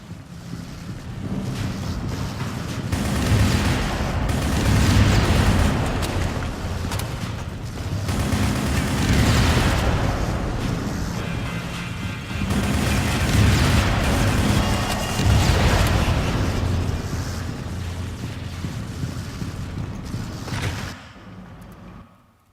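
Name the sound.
explosions in the video game Shadowgun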